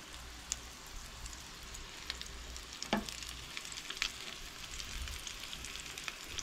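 Rava-coated mackerel (bangda) frying in oil on a low gas flame: a steady, soft sizzle with scattered small pops and crackles, fairly quiet and continuous, no voices.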